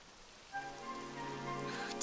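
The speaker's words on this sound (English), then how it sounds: "It would have to go and start raining, wouldn't it?" Rain beginning to fall in the Dragon Quest 11 video game, a soft steady patter that builds over a couple of seconds beneath faint game music tones.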